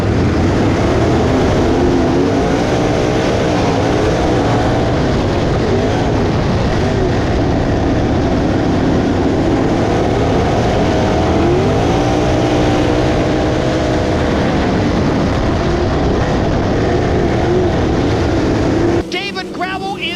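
Race cars roar around Ransomville Speedway as a feature race gets the green flag. A dense, constant engine drone fills the scene with a voice talking over it throughout.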